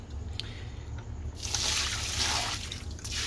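Dirty fish tank water is poured out, starting with a few faint drips and then turning into a steady splashing trickle that rises and falls for about two seconds.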